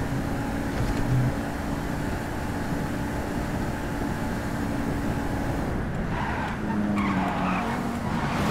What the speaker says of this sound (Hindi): गाड़ी की साउंड चेंज हो जाती है फर्स्ट पर्सन और थर्ड पर्सन में।